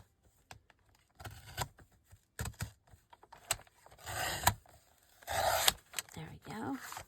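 Scissors cutting paper for a journal, close dry snips and rustling scrapes in short bursts, with a person talking intermittently between cuts.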